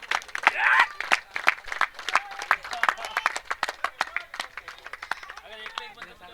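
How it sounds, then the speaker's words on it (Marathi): Spectators at a local cricket match clap in scattered bursts beneath an excited commentator who talks the whole way through, the sharp claps close and uneven. "ही मॅच आवडली असेल टाळ्या वाजवा जोरदार आहे मॅच साठी"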